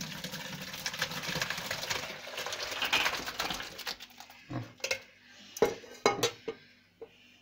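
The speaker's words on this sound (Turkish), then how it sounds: "Tencereyi bir alıyorum." A metal cooking pot clinks and clatters close by during homemade village cheese making, with a few sharp knocks near the end after a stretch of rustling handling noise.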